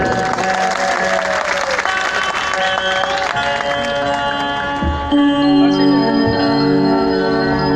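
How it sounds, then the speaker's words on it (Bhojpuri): An audience at a devotional program claps as a blessing, a crowd of hands heard alongside ringing bells and sustained tonal music, with a voice faintly present. "एक बार ताली से आशीर्वाद करो।"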